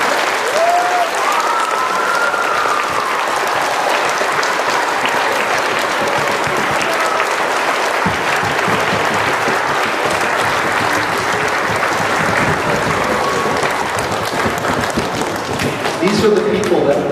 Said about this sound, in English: Now that applause was appreciated